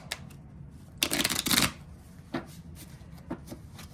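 A small deck of playing cards is riffle shuffled in one dense, crackling burst of rapid flicks, with a few lighter card handling taps before and after in a quiet room.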